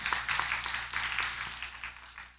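Church congregation clapping to welcome first-time visitors at a Sunday service, a fairly quiet, distant patter of hands with rhythmic pulses running through.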